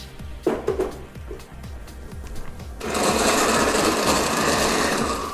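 A blender grinds cooked, chopped carrots for a cream of carrot soup, starting with a few rough knocks and bursts before settling into a loud, steady whir that runs close and alone to the end.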